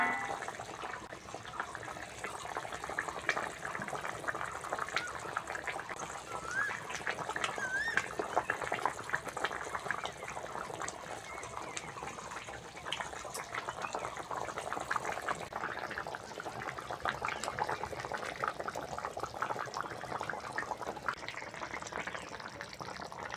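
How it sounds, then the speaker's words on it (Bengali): A spicy Bengali fish curry (jhal) with taro and potatoes bubbles steadily in a pan, a continuous soft burbling simmer close by. "ঝাল ভালোভাবে ফুটে গেছে"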